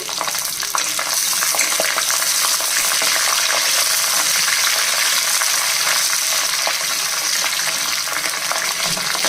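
Dried red chillies and halved green chillies frying in hot oil, a loud, steady close-up sizzle with busy crackling throughout, no talking.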